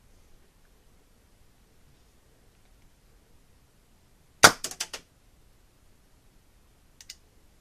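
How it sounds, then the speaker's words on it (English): A miniature cannon made from a lighter fires an airsoft pellet: one sharp pop followed by a quick rattle of clicks, then a faint click a couple of seconds later in an otherwise quiet room. "Now to fire, all that needs to be done is to squeeze the trigger"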